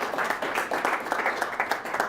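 A small audience claps for a person during a talk, with brisk, uneven hand claps at close to moderate distance, fairly loud and sustained throughout.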